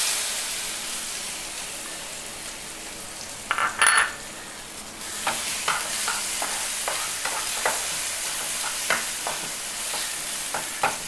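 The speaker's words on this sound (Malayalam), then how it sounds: "നമുക്ക് ഒരു നേന്ത്രപ്പഴം കട്ട് ചെയ്തതാണ്, ചെറുതായിട്ട് ഇട്ട് കൊടുക്കാം." Chopped nendran banana pieces hitting a hot pan, then frying with a steady sizzle while a spoon stirs and scrapes them in repeated clinks and scrapes, close and clear with no voices.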